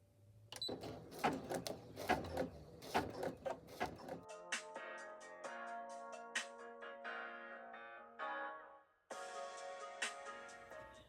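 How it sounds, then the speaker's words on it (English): An embroidery machine stitching a name onto a bag tag gives off quick, even mechanical needle ticks with a soft motor whir, pausing briefly partway through before resuming. "I placed the hoop back on the machine, and now it's going to stitch out my name"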